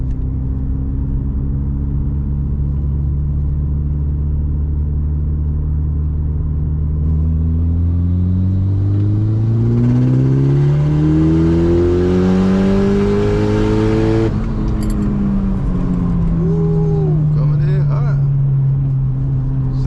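Tuned Mitsubishi Evo engine pulls hard in third gear, its drone climbing steadily in pitch for several seconds. The revs then drop to a lower rumble, and someone talks over the engine throughout.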